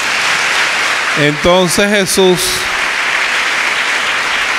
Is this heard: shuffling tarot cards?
no